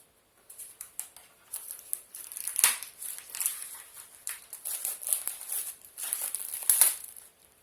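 A fruit cutting board's plastic packaging is torn and unwrapped up close, giving quiet bursts of crinkling, crackling and tearing in uneven spurts with short pauses between.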